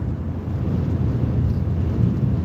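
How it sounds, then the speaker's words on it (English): Strong wind gusts buffet the microphone in 60-mile-an-hour winds, a dense continuous low rumble with surging swells and no talk. "we're twirling again, probably because they got 60-mile-an-hour wind gust."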